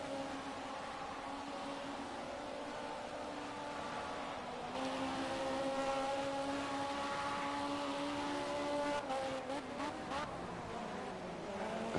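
DTM race cars lapping the Nurburgring in a racing video game, with layered engine tones climbing and shifting steadily as several cars run close together, a denser surge of engine noise partway through, no talking.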